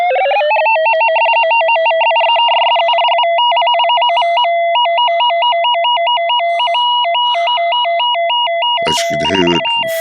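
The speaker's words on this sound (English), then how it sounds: "That's a 2-step arpeggiator." A Theremini's 2-step arpeggiator runs at full speed, rapidly alternating between two pure electronic tones in a fast, steady trill, loud and close, with a brief burst of noise near the end.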